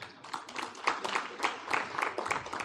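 A conference audience applauds a past president at a law conference, a steady patter of many hands clapping at moderate distance throughout.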